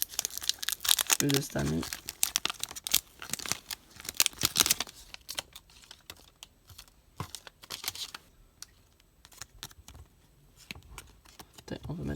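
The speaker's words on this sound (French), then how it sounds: "Les paquets sont pas mal plus difficiles à ouvrir" Upper Deck MVP hockey card packs, 2019-2020 hobby box, torn and crinkled open at close range in quick papery bursts, with a voice speaking over the rustling.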